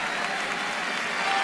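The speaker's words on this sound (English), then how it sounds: "the fans stand and cheer" A baseball crowd at a Marlins–Nationals game in Washington cheers and applauds, a dense, loud wash of clapping and roar with no break.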